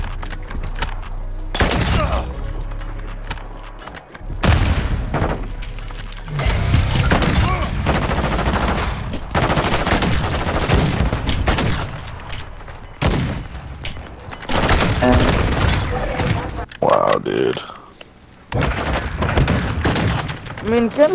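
Video game gunfire in bursts of rapid shots and heavy booms, loud and close, mixed with game sound and music, with players talking over it at times.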